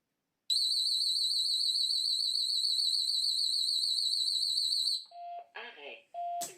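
Home alarm sounding a tamper alert after a magnet is held to a window handle detector, a loud continuous warbling electronic siren lasting about four and a half seconds, then short beeps with a voice speaking between them.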